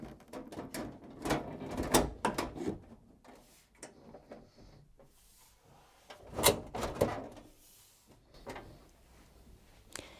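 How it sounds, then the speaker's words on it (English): Washing machine front panel lifted, aligned with the door frame and slid down into place, giving close, sharp knocks and clunks of plastic and metal in irregular bursts, with no talking. "lift it up, align it with the door frame and then slide it down into place"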